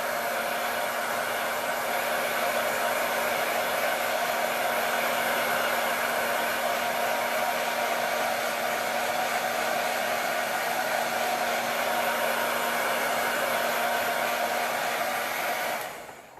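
A heat tool drying transfer ink on a craft project blows with a loud, steady whirring roar and a constant motor hum for about sixteen seconds, then cuts off at the end.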